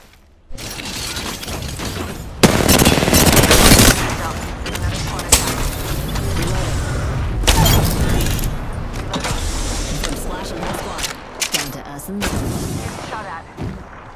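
Rapid bursts of gunfire fill an Apex Legends match, dense and loud, with repeated volleys and sharp shots layered over constant game noise and occasional voice lines.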